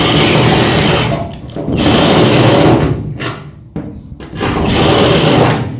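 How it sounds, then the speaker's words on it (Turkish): A handheld power tool grinds burrs off the metal edges of a trailer, loud and close, its whine cutting in and out in several bursts with brief pauses between passes. "Buraların çapağını aldıracağım arkadaşlar."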